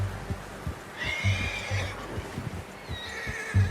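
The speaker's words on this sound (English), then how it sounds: "How's that new horse?" A horse neighs in the Red Dead Redemption 2 video game, two clear whinnies spaced a couple of seconds apart over muffled hoof clops and low outdoor ambience, close and fairly loud.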